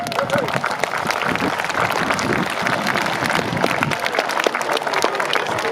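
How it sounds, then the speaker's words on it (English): Spectators at an Elizabethan weapons display at Kenilworth Castle clap steadily, a dense and fairly loud patter of many hands mixed with crowd murmur and voices, continuing evenly throughout. "You may applaud, ladies and gentlemen."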